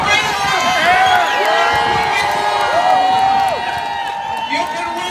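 A large crowd at the Reopen Wisconsin rally cheers and whoops continuously, loud and close, with scattered clapping and voices shouting over the roar throughout.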